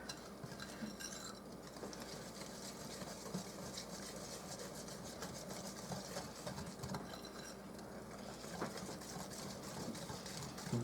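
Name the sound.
whisking flourless chocolate cake batter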